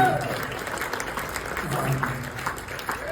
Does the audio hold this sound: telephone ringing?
no